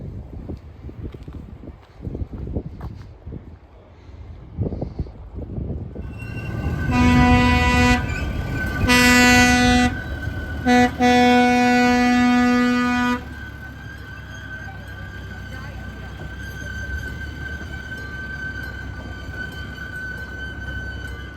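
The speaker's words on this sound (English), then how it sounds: "see some trains run around their awesome Lionel Visitors Center layout" Lionel model trains rumble along the track of a large layout, then a horn toots in several sustained blasts with short gaps before the rolling noise continues alone.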